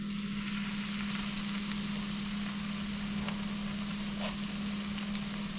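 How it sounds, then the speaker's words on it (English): Steady, dense sizzling of gag grouper fish frying in hot oil, continuous and close, with no talking. "You hear that sizzle?"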